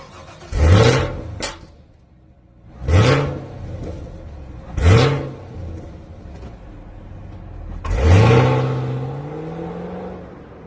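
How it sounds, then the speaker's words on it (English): A 2019 Chevrolet Camaro with a 6.2 liter V8 revs and pulls away in four loud bursts, each rising in pitch and then fading, with quieter engine rumble in the gaps between them. "Let's take this car for a ride."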